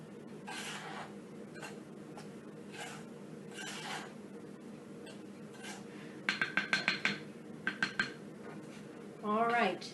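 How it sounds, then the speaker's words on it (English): A spoon mixes cream of tartar into a homemade anti-stress putty mixture in a bowl, giving quick clinking scrapes and a run of sharp taps against the dish, over low background hum with faint talk nearby. "we're going to take our spoon and we're going to just mix all that together"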